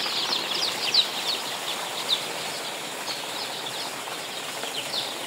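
A dense, steady chorus of many chickens fills a new poultry farm shed, soft clucks and high peeps blending into a constant murmur with a few sharper chirps standing out.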